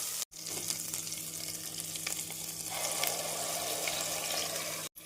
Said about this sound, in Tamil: நாம் அரைத்த மசாலாவை சேர்த்து நன்றாக வதக்க வேண்டும்